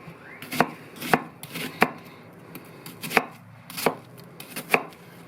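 A chef's knife chops food on a board for slow cooker chilli beef: eight sharp, distinct close knocks at uneven intervals over faint room tone.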